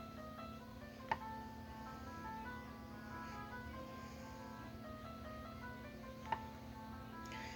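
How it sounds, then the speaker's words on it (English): A slow, melancholic piano melody drifts through a house in the horror game The Manor, soft sustained notes over a steady low hum, faint and distant with no voices. "The sound of someone playing a melancholic melody on the piano reaches your ears."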